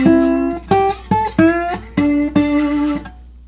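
A slide guitar plays a signature phrase over the five chord in a classic blues style, with about seven bright plucked and slid notes in a loud, clear, rhythmic run that ends in a ringing tail.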